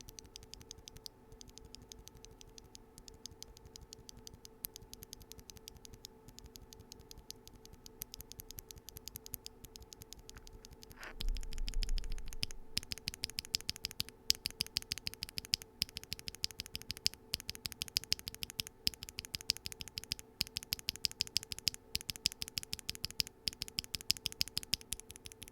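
Quiet, steady typing on a mechanical keyboard fitted with Gateron Pro Ultra Glory Yellow switches: soft, rapid, evenly paced key clacks continue throughout with no voices.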